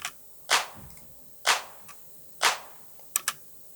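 Clap drum sample from a house track's drum pattern, three sharp snappy claps spaced about a second apart, followed by two quicker flams near the end, crisp and alone.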